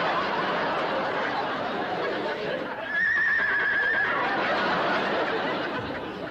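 A horse whinny in a 1960 television comedy sketch, heard mid-clip and mixed with studio audience laughter and chatter.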